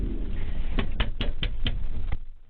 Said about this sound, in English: until she knocks on the window